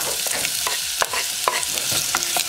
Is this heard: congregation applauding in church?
no